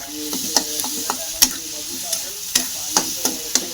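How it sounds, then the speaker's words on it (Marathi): Onions with green chili frying in hot oil, a steady close sizzle broken by sharp scraping stirs of the spoon against the pan every half second or so, with no voices. "मस्त कांदा चांगला चांगलं तेलामध्ये तळून घेते एकदम लाल होईपर्यंत"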